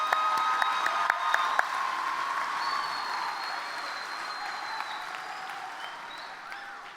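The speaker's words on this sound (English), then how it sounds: "I'll clap for you." Applause rolls through a university commencement audience, a dense steady wash of many hands clapping with a few sharper claps up front, moderately distant and gradually softening.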